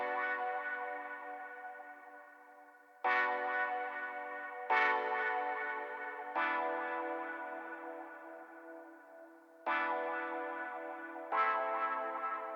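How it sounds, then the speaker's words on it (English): Sustained synth chords with a long reverb tail, made in FL Studio, struck about six times at uneven intervals, each swelling in and slowly decaying into the next. "I added reverb on this one"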